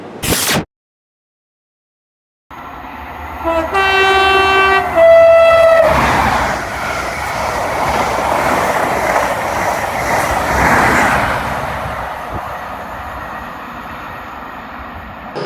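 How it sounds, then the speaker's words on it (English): A CrossCountry Class 43 HST at the Birmingham New Street platform sounds a sequence of horn tones. A loud, rumbling rush of the train follows and carries on steadily close by. "So I'm now on the platform at Birmingham New Street."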